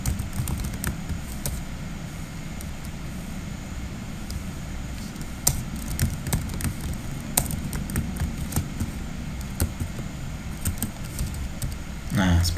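Computer keyboard keys are tapped in scattered sharp clicks and short bursts over a low background hum, fairly close, with a voice talking now and then.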